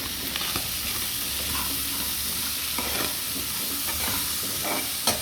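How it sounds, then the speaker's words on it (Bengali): Papaya, carrot and green chili sizzle and crackle steadily as they stir-fry in a hot pan, with occasional scraping clicks from the spatula and a constant hissing wash throughout. "ভালো করে এটাকে ভাজবো, তারপর বাকি সবজিগুলো দেব"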